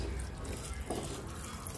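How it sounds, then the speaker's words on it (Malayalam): Boiled noodles for vegetable chow mein being rinsed under cold running water, a soft continuous splashing and trickle, close and fairly faint, with no talk. "കുറച്ച് തണുത്ത വെള്ളം കൊണ്ട് ഇത് ഒന്ന് കഴുകുക."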